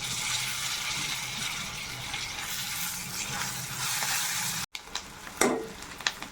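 Curry leaves dropped into hot tempering oil on a flame, giving a loud, continuous sizzling hiss that breaks off briefly, then resumes with stirring clatter and spattering pops.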